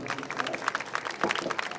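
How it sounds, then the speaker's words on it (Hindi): Audience clapping at a Khatu Shyam devotional kirtan evening, a short burst of loud, close, dense claps. "एक बार जोर से ताली हमारी बहन की।"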